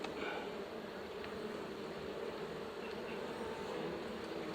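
Honey bees buzzing around a beehive during a summer honey harvest, a steady dense droning hum that carries on without a break, with a few faint knocks.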